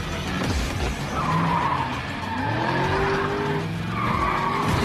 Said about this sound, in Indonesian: Jensen langsung menancap gasnya dengan membabi celeng